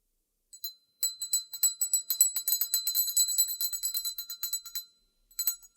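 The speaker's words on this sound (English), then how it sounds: "I'm so glad I brought this bell." A small handheld bell rung rapidly in a quiet room, a near, bright jangle of repeated rings over about four seconds, then a short final ring after a pause.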